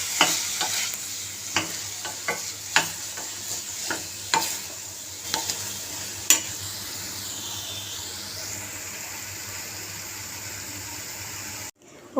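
Ground paste stirred and fried in a pan for a bottle gourd curry: a spatula scrapes and clacks in irregular strokes over a continuous sizzle and hiss, the stirring stopping midway while the frying carries on alone.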